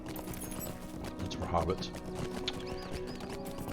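Horse hooves clip-clop and a horse whinnies as a player mounts their own horse at a stable in the online game The Lord of the Rings Online, with steady game music and someone talking over it throughout.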